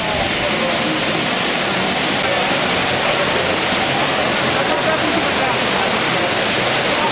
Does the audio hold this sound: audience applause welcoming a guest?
no